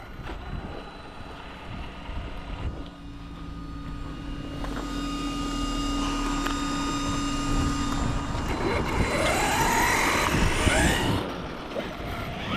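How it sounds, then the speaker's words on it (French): An ARRMA Dirtrat RC 4x4 on rear paddle tires driving outdoors, a sustained engine drone that rises and falls with passes, then a rising whine near the end, mixed with wind rumble on the microphone. "Ce qui est sympa, c'est le bruit avec ces pneus à pelle derrière"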